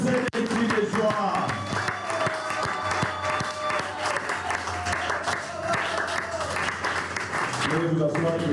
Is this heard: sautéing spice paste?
no